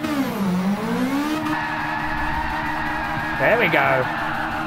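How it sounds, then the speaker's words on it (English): A 300-horsepower Toyota on slick tires revs and spins through donuts in Gran Turismo 7, engine pitch swooping up and down with a brief rising rev burst, while someone talks briefly over it. "Even 300 horsepower is enough to do some donuts with even slick tires"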